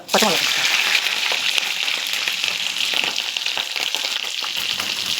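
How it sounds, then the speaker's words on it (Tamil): Mustard seeds and urad dal fry in hot oil for a South Indian rava upma tempering, a loud, dense, continuous sizzle and crackle heard up close with no pauses. "நல்லா உளுத்தம்பருப்பு கொஞ்சம் கலர் சேஞ்ச் ஆனதுக்கப்புறம்"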